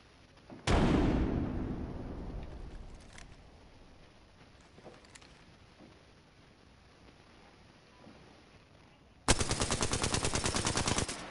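A frag grenade detonates in Rainbow Six Siege with a loud, close blast that rings out and slowly decays, followed after a quiet stretch by a dense, rapid burst of automatic gunfire.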